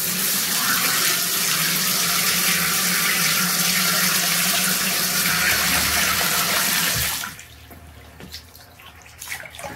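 Hot water gushes steadily from a bathtub faucet, a loud, continuous broadband rush that cuts off abruptly after about seven seconds, leaving faint drips and quiet room sound.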